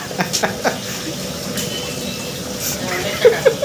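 A pot of dal (lentils) boils on a wood-fired smokeless stove, giving a soft, steady bubbling and gurgling, with a few louder pops near the end and low voices speaking over it.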